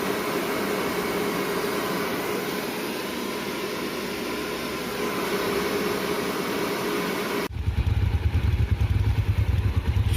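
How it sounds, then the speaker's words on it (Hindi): Bikes, a Bajaj Avenger and a Royal Enfield Himalayan, start up and idle nearby: a steady mechanical engine drone for several seconds, then a sudden shift to a louder, low throbbing exhaust rumble. "अभी बाइक सब फुल स्टार्ट हो रहा है"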